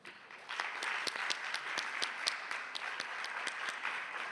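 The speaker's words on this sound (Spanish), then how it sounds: "Les invitamos a recibirlo con un aplauso." Audience applause welcoming Dr. José Iges to a keynote lecture, a steady crowd clapping that swells after a brief start and holds at a full, even level with a few sharper individual claps standing out.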